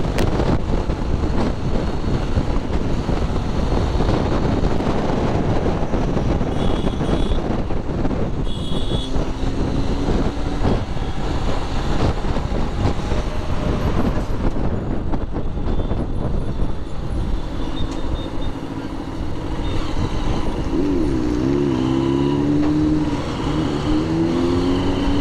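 Kawasaki Z900 motorcycle engine while riding, a continuous loud drone mixed with heavy wind rush, the pitch shifting as the rider accelerates and changes speed.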